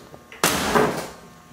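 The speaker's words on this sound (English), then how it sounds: "I'll shut this door up" A door in a cutting and welding shop swings shut with a single loud, close slam followed by a brief fading rumble.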